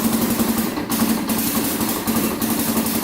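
A Kawasaki 4x4 engine idles steadily while warming up with the choke partly off, a close, loud, even throbbing drone with slight rhythmic pulsing.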